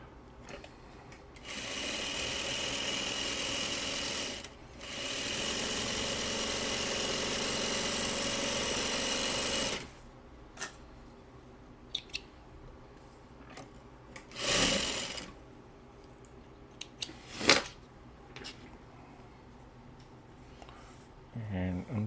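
Sewing machine stitching fabric patches for a simple four-patch quilt block, running in two steady loud stretches with a short pause between, followed by quieter handling clicks and taps.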